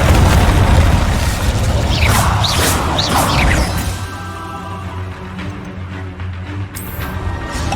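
An Incendio fire spell blasts in Hogwarts Legacy on PS4 Pro, a loud booming burst with whooshing flame up front that eases into a lower rumbling tail.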